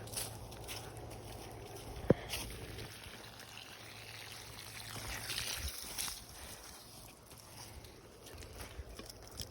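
Water pours into a car's cooling system at a steady, fairly faint gurgle with no talk, broken near the start by a short sharp knock.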